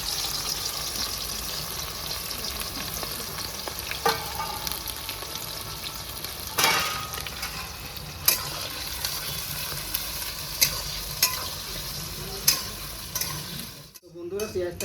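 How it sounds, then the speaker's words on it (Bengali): Onions sizzle and fry in hot mustard oil in a wok, a steady close crackling hiss with occasional sharp clanks of a spatula stirring, and a brief dropout near the end. "গরম হয়ে গেছে, আমি পেঁয়াজ দিয়ে দেবো,"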